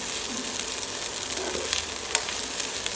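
Fried rice with shredded fish roe frying in a home pan, giving a steady crackling sizzle with faint stirring scrapes throughout, fairly close and with no voices.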